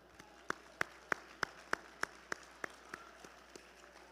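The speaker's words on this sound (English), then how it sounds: "Can we all give her another round of applause, please?" Audience applause at a Teacher of the Year ceremony for Volusia County Schools, heard as a steady run of sharp claps spaced roughly evenly, fading slightly toward the end, with no talking over it.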